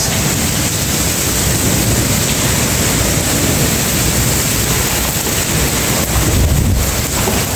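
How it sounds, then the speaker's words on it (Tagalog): Heavy rain mixed with hail pours down in a dense, steady roar in the UAE, loud and close throughout, with gusts of wind buffeting the microphone. "Hindi na normal ito ulan."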